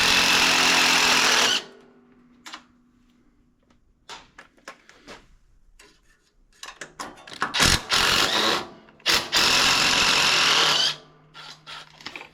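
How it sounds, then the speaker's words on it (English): A 3/8 ratchet loosens a tight bolt on an Ariens riding mower in two long bursts of rapid mechanical clicking, with short metallic clanks and knocks in the pauses between them. "That one I'm going to want to loosen at least first with my 3/8 before I start to take it out"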